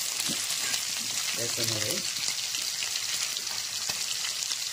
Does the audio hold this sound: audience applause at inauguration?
no